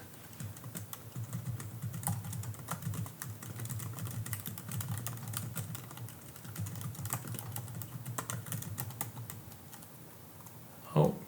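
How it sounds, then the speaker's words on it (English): Typing on an Apple Magic Keyboard connected over USB-C, a steady run of close, crisp key clicks with short pauses and a louder clack near the end, with faint talk in the background. "First ever Magic Keyboard connected via USB."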